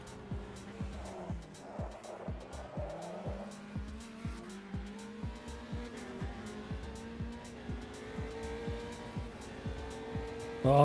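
A sim racing car's engine drones steadily with rhythmic gear-like pulses as it is upset under braking, tires squealing faintly beneath the continuous motor tone.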